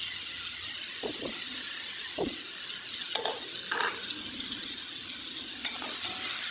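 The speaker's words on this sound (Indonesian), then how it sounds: "Selanjutnya tumis bumbu yang sudah dihaluskan." Ground spice paste stir-fries in a pan, giving a constant dense sizzle with a few soft scrapes and clinks from stirring, close up and with no voices.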